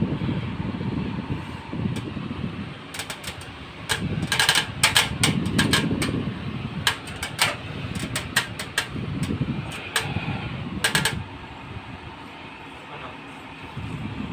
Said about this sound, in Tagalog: Rinig nyo yung ingay ng blower.